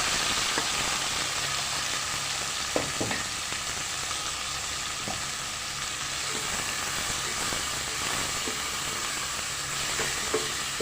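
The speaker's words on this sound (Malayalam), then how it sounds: "ഈ എണ്ണയിലേക്ക് തന്നെ നമുക്ക് എടുത്ത് വെച്ചിരിക്കുന്ന നമ്മുടെ സവോള, ഇഞ്ചി, പച്ചമുളക്, വെളുത്തുള്ളി എല്ലാം നമുക്ക് ഇതിലേക്ക് ഇടാം" Onion, ginger, green chili and garlic fry together in hot oil for a Kerala prawn biryani, a steady close sizzle broken by occasional stirring scrapes, with no voices.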